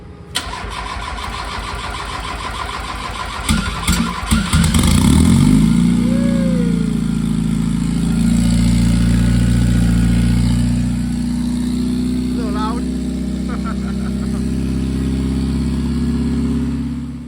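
A built Mazda Miata with a 400+ horsepower turbocharged engine cranks over and catches, then settles into a loud, steady idle with a few blips of revving, heard up close and alone.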